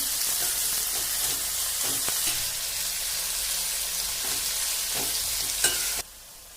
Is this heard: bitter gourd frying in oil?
yes